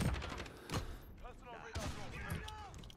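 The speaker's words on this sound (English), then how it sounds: "Used an entire 100 round mag in that motherfucker." Rapid gunfire from a video game weapon emptying a 100-round magazine, a dense burst of shots running across the whole stretch with a few sharper cracks, while a voice talks over the top.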